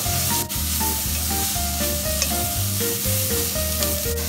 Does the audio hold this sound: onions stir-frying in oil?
yes